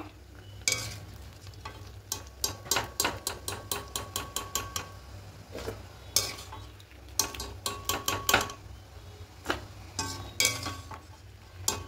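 Half-boiled taro stolons are strained in a pan: a string of sharp metallic clinks and scrapes in quick bursts, close and fairly loud, with no talking.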